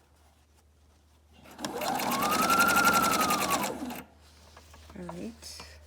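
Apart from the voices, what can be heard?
sewing machine stitching a Bible cover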